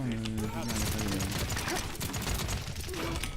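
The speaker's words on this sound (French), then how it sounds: "Son clic droit, bah, c'est une mitraillette" In the video game Paladins, the character Tyra fires her machine gun in a rapid, continuous rattle of shots, heard under a voice.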